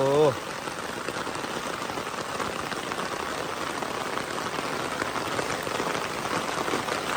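Heavy rain pours down at a house construction site, a dense, even hiss that continues unbroken after a brief voice at the very start.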